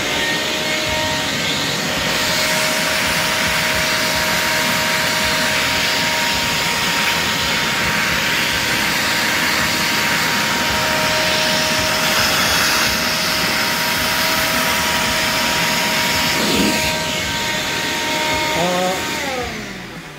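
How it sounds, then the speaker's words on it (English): Vacuum cleaner running close by during a truck bed waterproofing job, a loud steady whining roar with a constant hum that continues unbroken before winding down at the end. "I'm using basically my vacuum right here, and it's gonna be noisy"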